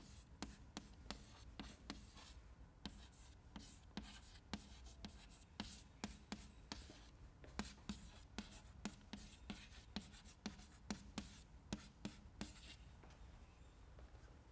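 An equation being written out during a fluid dynamics lecture, with a long run of quick, crisp strokes and taps in an irregular steady rhythm, close and fairly loud over a low background hum, no voices.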